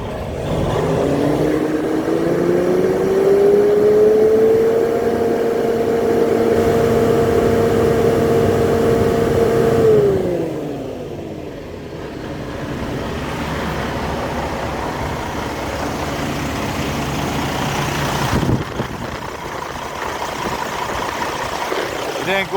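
A truck engine in a Western Express rig is revved up to about 2000 rpm. The pitch climbs into a loud, steady held drone, then drops back to a rumbling idle. A brief clunk follows later.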